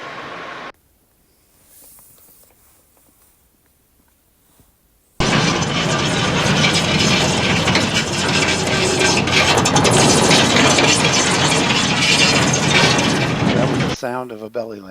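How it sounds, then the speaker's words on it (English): Simulated belly landing of an aircraft in MSFS 2024 with the FSRealistic+ sound add-on: after a quiet start, a loud, sustained grinding scrape lasts about nine seconds before stopping abruptly. "That was the sound of a belly landing,"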